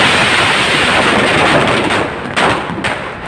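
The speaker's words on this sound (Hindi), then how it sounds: "ये चल पड़े हैं, ये पटाखे शुरू हो चुके हैं।" A dense, continuous crackling barrage of firecrackers bursting rapidly at a BJP office election-victory celebration in Haryana, loud and close, with a few sharper pops standing out near the end.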